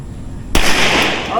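A single sharp gunshot at an outdoor firing range in Norzagaray, Bulacan, cracks out loud and close after a moment of quiet background, followed by a brief ringing decay.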